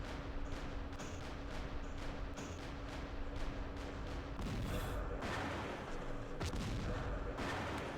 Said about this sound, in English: That's a full Panther company shooting at our jumbos